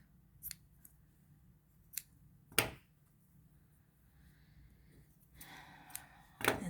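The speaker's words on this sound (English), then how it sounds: "so I'm gonna cut this off" Scissors snipping through craft material for a snowman, a handful of sharp, close blade closures spaced apart and quiet, with some light rustling of material near the end.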